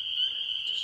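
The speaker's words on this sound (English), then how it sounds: "the call that we are predominantly hearing is made by this frog right here. This is a spring peeper" Spring peeper tree frogs call in a marsh, a brief, steady high-pitched piping tone held clearly over quiet background.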